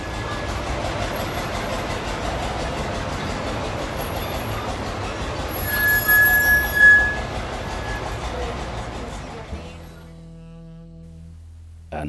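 A heritage railway train runs at St. Nicholas Abbey in Barbados, giving a steady rumbling roll with a brief squeal partway through before the sound drops away near the end.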